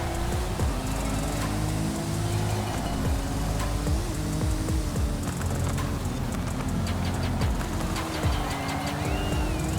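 A 2023 Porsche 911 Rallye with all-wheel drive is driven in Forza Horizon 5. The engine drones loudly and steadily as its pitch rises and falls through gear changes, with road and tyre noise beneath and no voices.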